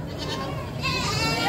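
Several goats bleat at a livestock market selling cattle, carabao and goats, a couple of bucks among them, with wavering calls rising louder in the second half over steady crowd murmur and some talk.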